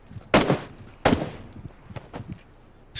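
Cover fire in a military base shootout video game: two loud, sharp gunshots about three quarters of a second apart, followed by a few fainter, scattered shots and small clatters.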